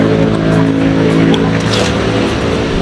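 Road traffic of cars, motorbikes and a bus passing beside a meatball soup stall in Cipeundeuy, a loud, close, continuous rumble of engines and tyres with rising and falling whooshes as vehicles go by.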